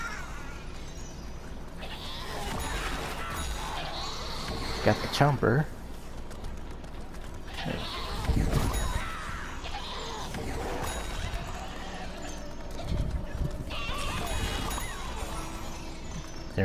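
Goat bleats from a player character in Plants vs. Zombies: Battle for Neighborville, short wavering cries mixed with game effects and crashes, heard under a man's gameplay chatter.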